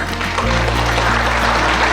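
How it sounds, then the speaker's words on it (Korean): Audience applause welcoming lecturer Kang Woo-seok at a lecture in the Yeonsu district office, dense continuous clapping over a steady low hum from the hall's sound system. "강우석 강사님을 큰 박수로 맞아주시기 바랍니다"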